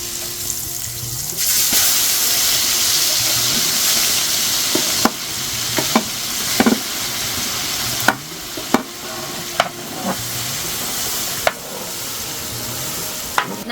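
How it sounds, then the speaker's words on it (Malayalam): Oil sizzles loudly and steadily as fish fries close by, broken by occasional sharp clinks of a utensil against the pan. "ഇനി നമുക്ക് ഓരോന്നോരോന്നൊന്ന് നന്നായിട്ട് വറുത്ത് കോരിയെടുക്കാം"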